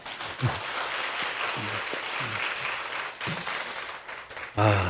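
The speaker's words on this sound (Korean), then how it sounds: "한번 격려의 박수 한번 주시면 고맙겠습니다." Steady applause from a church congregation during a Sunday service, filling the whole stretch, with a few louder bursts and a short murmur of voices near the end.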